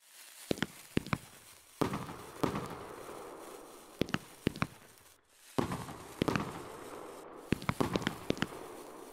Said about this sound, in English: I decided to use the fireworks simulator because I thought it'd be a good choice for flashing lights.